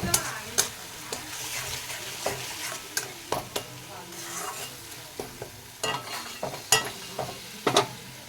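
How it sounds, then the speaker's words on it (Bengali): Spices with chili powder and salt frying in a pan, a continuous close sizzle broken by repeated scraping stirs and spoon taps against the pan at an uneven rhythm. "ভালো করে ভেজে নেব"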